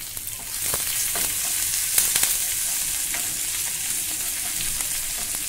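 Asafoetida and curry leaves sizzle in hot oil for a Marathi matki usal, a steady, close hiss of frying with a few faint crackles and pops, no voices.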